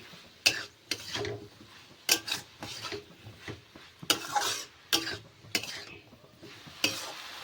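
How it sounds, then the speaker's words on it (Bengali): Cabbage is turned in a cooking pan with repeated scraping strokes of a utensil, in irregular bursts over a faint low sizzle, close and with no talking. "ভালো করে কপিটাকে এবার নাড়িয়ে দেবো"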